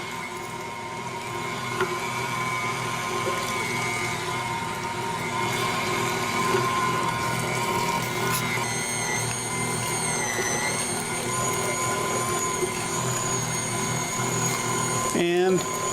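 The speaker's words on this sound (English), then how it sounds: "So we're going to fire it up and I'm just going to grind the meat through." An electric meat grinder runs continuously while grinding meat for sausage, a steady loud motor drone with a constant mechanical hum and a higher whine joining partway, then cutting off abruptly at the end.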